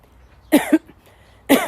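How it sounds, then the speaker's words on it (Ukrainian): Two separate coughs, each a quick double burst, sound close by and loud, with quiet between them. "Кашель появився."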